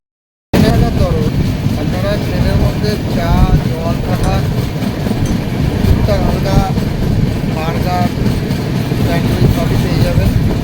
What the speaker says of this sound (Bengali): আমাদের ট্রেন এখন এসে পৌঁছালো বর্ধমান